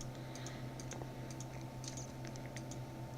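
Quick, light clicks and taps from a computer at a desk, scattered irregularly across a quiet room with a low steady hum underneath, with no voices.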